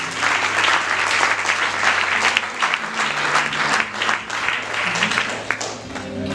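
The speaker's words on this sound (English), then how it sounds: "Can we clap our hands?" A wedding audience claps steadily in loud, sustained applause from many hands, with voices faintly mixed in beneath the clapping.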